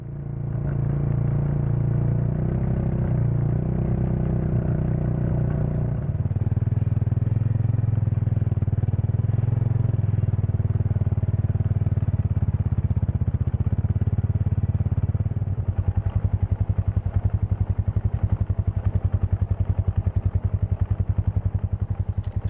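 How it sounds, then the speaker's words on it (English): Polaris Ranger 570 UTV driving over gravel with a sprayer attached, a steady loud mid-pitched engine drone close by with rattling clatter, the tone shifting partway through as speed changes. "It's a lot easier using this UTV with the sprayer than the old-fashioned way I used to do it with the wand."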